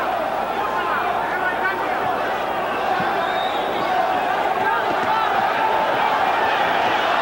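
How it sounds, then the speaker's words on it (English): Boxing arena crowd roaring at punches during a pro fight, a steady loud wall of cheering and shouting from a large audience, with a commentator talking over it. "the crowd goes insane with every punch"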